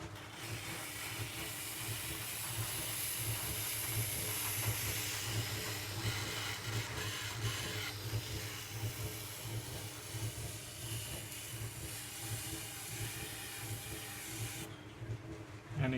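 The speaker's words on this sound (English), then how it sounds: "I'm just cleaning the surface with a little bit of shim metal" Thin shim metal scraping over a pot's clay surface as it turns on a potter's wheel, giving a steady close hiss and rasp with a faint mechanical hum beneath, stopping near the end.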